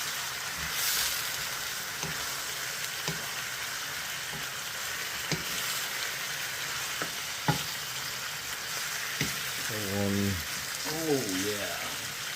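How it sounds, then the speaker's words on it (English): Chicken and garlic frying in a pan for Filipino adobo, a steady soft sizzle with occasional clicks and scrapes of stirring, and brief voice-like tones near the end. "Listen to that sizzle. Sizzled chicken and garlic."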